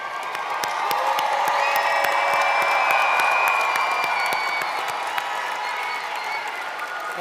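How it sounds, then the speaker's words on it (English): Graduates applauding themselves at a university commencement, a full crowd clapping with some cheering and whoops, swelling briefly and then holding steady. "Give yourself a round of applause."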